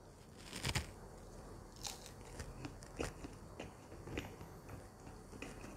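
Someone bites and chews McDonald's food dipped in Cajun sauce, with soft crunches and moist chewing in an irregular rhythm, close to the mic and quiet, with no talking.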